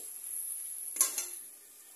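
Mustard paste with a pinch of ground cumin is stirred in a pan, a faint low sizzle broken by a single brief scrape of a utensil around the middle, quiet and close.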